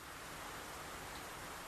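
Steady, dense hiss of rain falling in a cartoon, even and unbroken throughout with no other sounds.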